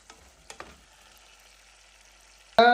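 Garlic frying in hot oil for tomato rasam: a faint, low sizzle with a few soft clicks, then a sudden loud hissing burst at the very end as the pan flares.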